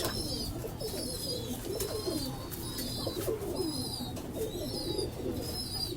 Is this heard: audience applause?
no